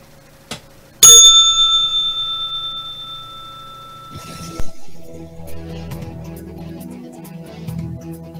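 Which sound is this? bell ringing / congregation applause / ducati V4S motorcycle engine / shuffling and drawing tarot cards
bell ringing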